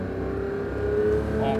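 Porsche 911 GT3 engine pulling hard on the Circuit du Castellet race track, a continuous loud drone heard from inside the cabin, slowly rising in pitch, with a voice speaking briefly over it.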